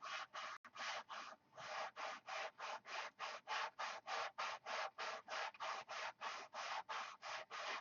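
Sandpaper on a Durablock hand sanding block worked over a control line P-51B model, producing about twenty evenly spaced rasping strokes, close and fairly quiet, in a steady rhythm.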